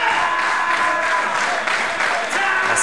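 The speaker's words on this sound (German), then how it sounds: "Das Publikum versucht hier Eric Young nach Leibeskräften zu unterstützen." Wrestling show crowd at a live event cheering and applauding, a steady dense wash of claps and voices holding loud throughout with no clear talk over it.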